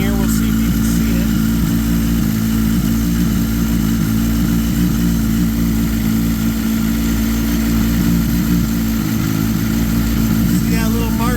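A Suzuki Hayabusa motorcycle engine fitted with a Max ECU idles steadily at a fixed idle speed, a continuous close mechanical hum that runs under the whole stretch, with some background noise.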